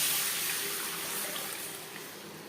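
Water is poured into a bowl of curry pakora batter, a steady splashing pour that tapers off gradually.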